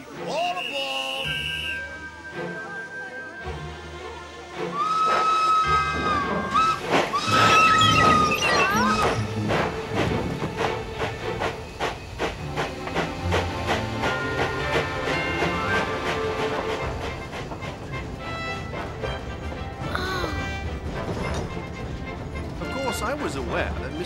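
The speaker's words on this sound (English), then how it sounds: "The train for Le Havre is ready to leave." A period train bound for Le Havre sounds a whistle, then rumbles and clanks with dense rhythmic wheel and carriage noise that builds and continues, with voices and music layered over the departure.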